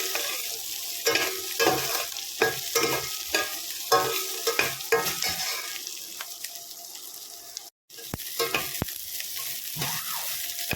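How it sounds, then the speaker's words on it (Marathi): Chopped onion fries in a pan for okra bhaji, cooking until reddish, with a steady loud sizzle broken by repeated scraping stirs and a brief gap near the end. "कांदा आपला थोडा लालसर होईपर्यंत भाजून घ्यायचा"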